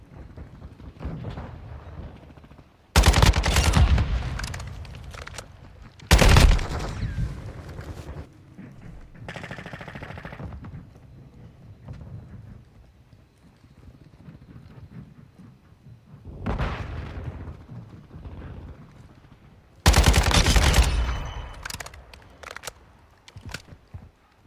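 Kastov 762 rifle gunfire in Call of Duty Modern Warfare II, arriving as a few loud, dense bursts of shots separated by quieter stretches of rumbling battle ambience.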